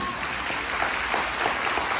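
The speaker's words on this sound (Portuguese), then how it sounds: "Você pode aplaudir Jesus por isso?" Congregation applauding during a church service, a steady wash of many hands clapping at moderate level with some voices mixed in.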